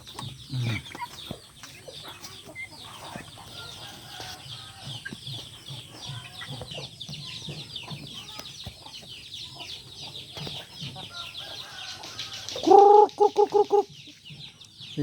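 Backyard chickens, a hen among them, clucking and chattering steadily throughout at moderate distance, with a brief louder burst of calls near the end.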